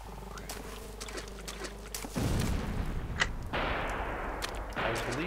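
Video game gunfire in a tense 1916 war setting: sharp bullet cracks and bursts crackle over a low rumbling drone, growing denser and louder after the second second.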